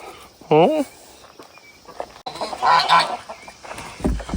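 A single loud goose honk rings out up close, followed by shuffling movement, splashing and a person speaking nearby.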